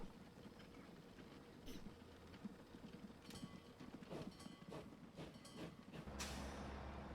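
A train pulls into a station in the railway-building game Transport Fever 2, in the 1850s era, with a steady rolling rumble under soft rhythmic clatter and clanks that swell toward the end.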